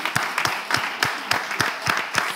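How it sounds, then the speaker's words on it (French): Audience clapping for a woman contestant on a French-speaking Togolese game show, a thin, rhythmic run of roughly regular claps, fairly close and steady, with no talk over it. "On applaudit madame."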